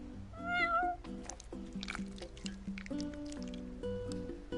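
A cat in the video game Final Fantasy XV gives a clear rising meow, followed by soft wet eating and squishing sounds under game music, close and distinct.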